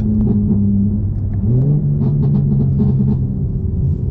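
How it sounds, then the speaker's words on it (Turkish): A BMW M4 G82 in sport mode idles with a deep, loud exhaust rumble, its pitch stepping up briefly as it revs, followed by a scatter of soft pops and crackles near the end. "duyuyorsunuzdur muhtemelen börbül yapıyor spor modda yaklaşık bir küsür saniyelik barbulu var"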